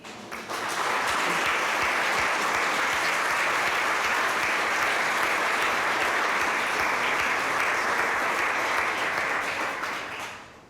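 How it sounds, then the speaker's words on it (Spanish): A church congregation claps together loudly and steadily for about ten seconds, a dense sustained roar of many hands that fades slightly at the end, with no speech over it. "¿Le puedo dar un aplauso a Dios?"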